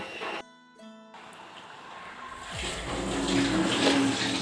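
Water poured into a pan of dates pickle, a steady hissing wash that swells and holds after a brief quiet gap, close and without speech.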